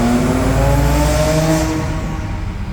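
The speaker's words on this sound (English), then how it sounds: "I'm going to give it full throttle. Car's lifting on the dyno" Car engine held at full throttle on a dynamometer, a loud continuous roar with climbing engine tones that peak then begin to ease off toward the end.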